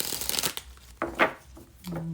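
A deck of oracle cards is shuffled in quick riffling bursts, close and crisp, with a person speaking softly between the shuffles.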